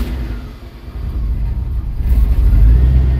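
A car engine with a Holley carburetor, running lean, revs unevenly as the throttle holds it alive, a loud, rumbling, surging drone that swells louder toward the end.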